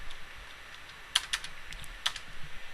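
Typing on a computer keyboard while entering RIP network addresses in a networking simulator, a few crisp key clicks scattered irregularly over quiet room tone, fairly faint with no talking.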